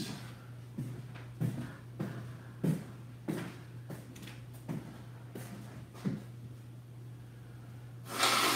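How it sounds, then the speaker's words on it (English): A person blows their nose in a series of short, sharp nasal bursts and snorts, close and fairly quiet, over a steady low hum with no talking. "I'm going to blow my nose, I got a little excited there."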